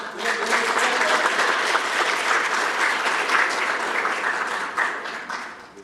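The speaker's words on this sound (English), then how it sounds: "Another applause for them." Applause at a village board meeting, a full, steady round of many people clapping that stays even for several seconds before tapering toward the end.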